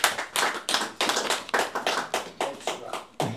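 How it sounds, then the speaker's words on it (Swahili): Hands clap in a rhythmic, fairly regular beat from a small audience at a mushroom farming session, about ten distinct sharp claps at close range, each tailing off quickly before the next. "Pigeni makofi."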